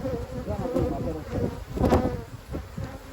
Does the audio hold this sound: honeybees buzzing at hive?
yes